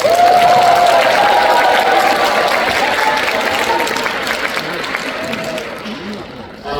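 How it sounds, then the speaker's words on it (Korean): A concert audience claps at a Korean singer's show in Seongnam, a dense wash of applause that starts strong and slowly tapers off, with a sustained sung or voiced tone drifting over it. "여러분 박수 부탁드립니다."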